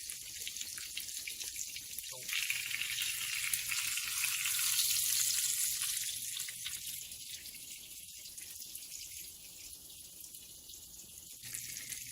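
Breaded schnitzel frying in a pan gives a steady, bright sizzle and crackle that swells a little midway, then settles into a continuous hiss close by.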